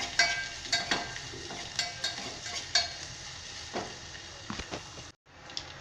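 Chopped green onions sautéing in a pan for vegetable soup, a steady close sizzle with repeated stirring scrapes and clinks throughout, alone without talk.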